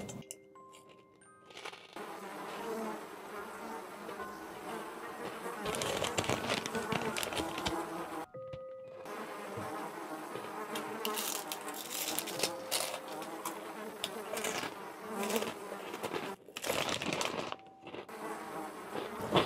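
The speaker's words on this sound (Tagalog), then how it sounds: "Dami langaw." Swarming flies fill a house at night, buzzing steadily and fairly close throughout, with faint intermittent clatter and brief gaps.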